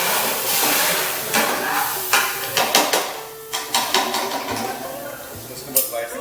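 Gravy poured into a frying pan for murgh makhan wala sizzles loudly, then a spoon stirs and scrapes in a string of sharp knocks and clatters against the pan.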